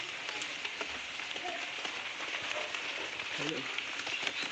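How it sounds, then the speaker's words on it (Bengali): Soft, steady patter of light rain on a muddy courtyard, continuous and fairly close, with occasional faint background sounds. "এখন এই অসময় বৃষ্টি হচ্ছে"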